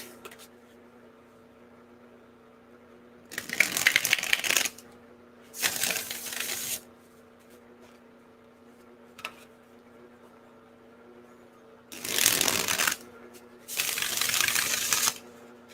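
Tarot cards are shuffled in several short riffling bursts separated by quiet pauses, close up, with no one speaking.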